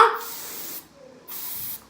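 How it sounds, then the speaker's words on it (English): Hairspray from an aerosol can sprayed in two short hissing bursts with a brief pause between, close and fairly loud, while making no-glue slime. "And then the hairspray."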